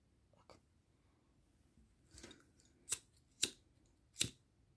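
Scissors snip through crochet thread for a crocheted flower, with four crisp, close cuts coming in a quick sequence after a faint earlier click, each one sharp and separate against near silence.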